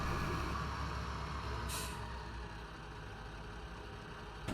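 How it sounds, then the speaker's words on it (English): A truck's air brake lets out a loud hiss in Farming Simulator 2015, with engine rumble underneath that fades as the engine shuts off. "Handbrake on, engine off."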